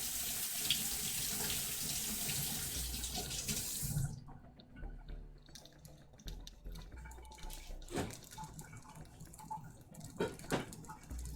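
Tap water runs steadily into a pan of braising apples, then shuts off, leaving a few drips and small kitchen clinks close by.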